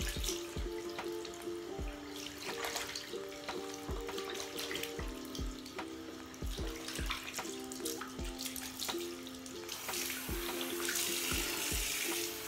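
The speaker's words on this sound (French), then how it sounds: "comme vous le voyez, là, je me rince le visage" Tap water runs steadily into a bathroom sink while a man rinses his face with cold water during a beard-care routine, with close splashes and drips over the continuous stream and no talking.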